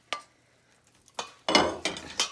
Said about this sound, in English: Syrup is going in, and I'm gonna have to give it a good mix.